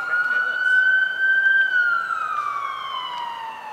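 A fire engine siren wails loud and close as firefighters arrive at an evening scene, one long rising tone that holds and then slowly falls away, heard alone.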